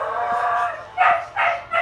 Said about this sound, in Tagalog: Sorgis, may ingay, ganyan talaga aso.